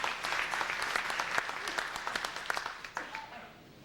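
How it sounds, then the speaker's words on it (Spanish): An audience at a Spanish-language public address breaks into warm applause, a loud, dense burst of many hands clapping that gradually fades toward the end. "Un aplauso a ella."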